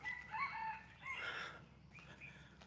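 A rooster crows on a farm, faint and somewhat distant, with a few chicken clucks around the drawn-out call and no voices.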